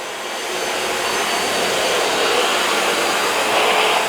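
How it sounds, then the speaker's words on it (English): Shark VACMOP VM252 Pro cordless hard floor vacuum mop running, a steady high-pitched motor whine with airy suction noise that holds constant and swells slightly, with no talking. "I'm going to vacuum up the mess first"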